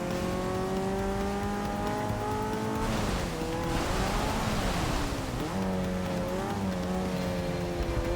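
A race car in Forza Motorsport 6 drives a wet, rainy track, its engine holding a steady droning pitch that dips and climbs through gear changes, with a continuous hiss of spray from the tires beneath.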